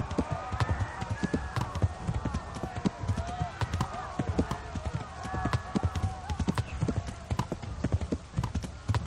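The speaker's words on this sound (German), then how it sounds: "Stehen lauter Pferde rum." Horse hooves clip-clop steadily on the ground in the medieval video game Kingdom Come: Deliverance, a continuous rhythmic trot close by with faint voices and a possible whinny in the background.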